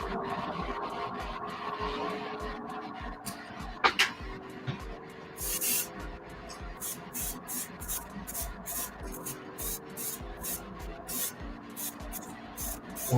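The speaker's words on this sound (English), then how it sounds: "It's time to airbrush." An airbrush sprays paint onto a Bane mask, with a faint airy hiss under background noise followed by a rapid series of short, sharp spray bursts in a regular rhythm.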